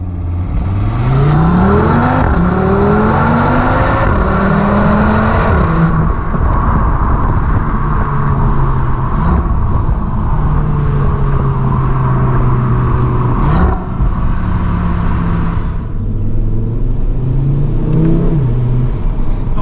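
A 400 bhp 2022 Audi RS3 engine pulls hard and loud through rising revs, with a whirring, whistling turbo tone over the roar and a brief dip at a gear change.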